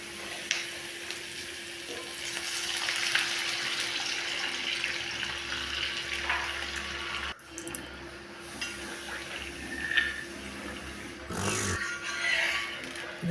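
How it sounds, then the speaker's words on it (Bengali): Hot water is poured into a pan of fried onions for a soup, giving a steady hiss and sizzle with watery splashing throughout, loudest at the start, with no talk. "গরম জলটা এখন আমি ভাজা পেঁয়াজটা একটু দিয়ে দেবো"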